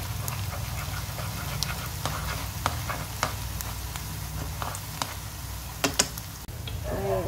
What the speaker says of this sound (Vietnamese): Giờ dầu nóng rồi, mình cho cái sườn chay này vô. Mình cho một nửa thôi, mình chiên 2 lần.